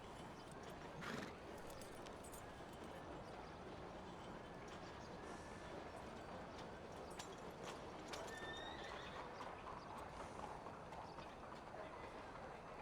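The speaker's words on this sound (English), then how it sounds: "That's Mishka's horse" Horse hooves clip-clop steadily alongside a whinny in a Wild West role-play video game, the hoofbeats sustained over an ambient outdoor soundscape with no talking.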